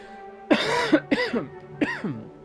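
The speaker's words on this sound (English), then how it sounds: "Oh, I can't wait to get rid of this fucking cough." A man coughs three times in quick, harsh bursts, close and loud, each with a raspy throaty edge, during a Jurassic World Evolution gaming session.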